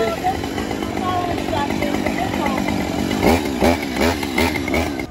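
A chainsaw used for Halloween scares idles and revs with a buzzing, pulsing engine drone, loud and close, with several rising rev bursts near the end while people talk over it.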